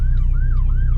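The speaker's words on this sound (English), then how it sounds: "Oh, there's an ambulance coming too." Ambulance siren wailing in a small Iowa town, a loud, close up-and-down sweep repeating about three times over a steady low traffic rumble.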